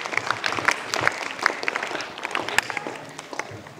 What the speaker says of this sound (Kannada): ಈ ಒಂದು ಸಾಧನೆಗೆ ಅವರಿಗೆ ನಾವು ತುಂಬು ಹೃದಯದ ಚಪ್ಪಾಳೆಗಳ ಮೂಲಕ ಇನ್ನೊಮ್ಮೆ ಅಭಿನಂದನೆಗಳನ್ನ ಸಲ್ಲಿಸುತ್ತೇವೆ